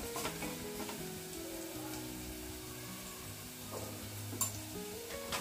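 Onion frying in a pan, a steady close sizzle with light scraping stirs and a few pan knocks, no voices.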